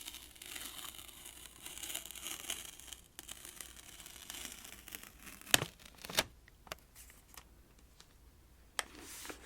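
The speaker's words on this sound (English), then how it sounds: "I'm going to see if I can peel away this tape with my tiny, not very long fingernail" Tape peeled by fingernail from a wrapped library book, faint crinkling and scratching of paper and tape throughout, then a few sharper tearing snaps and small clicks toward the end, close and quiet with no speech.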